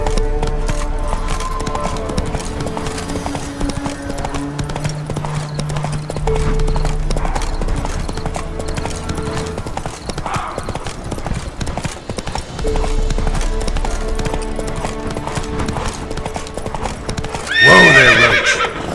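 Roach, the horse in The Witcher 3, gallops with steady clip-clop hoofbeats under game music, then lets out a loud, close whinny near the end.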